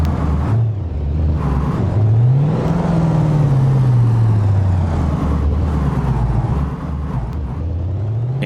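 A truck engine driving in the BeamNG.drive video game, loud and close, revving and whirring with pitch rising and falling through gear changes and throttle swings, continuous over several seconds with no talk.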